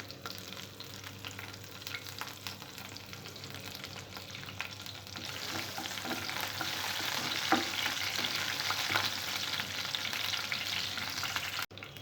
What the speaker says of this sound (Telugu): ఇవి కొద్దిగా ఫ్రై అయిన తర్వాత పచ్చిమిరపకాయలు, కరివేపాకు వేసుకోవాలి.